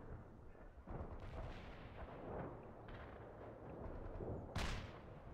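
Artillery booms roll through a war video game in a dense, rumbling barrage, with a louder sharp blast near the end over continuous low battlefield noise.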